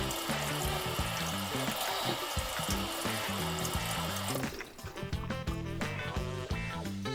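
Water splashes and runs steadily as potatoes are washed for a cream of potato and leek soup, with a brief lull before the sloshing and trickling resume.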